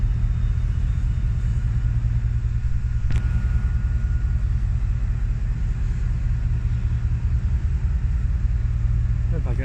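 Class 68 diesel locomotive 68008 passing through Cheltenham Spa station, a loud, steady low engine rumble throbbing throughout with a sharp click partway, close by and continuous.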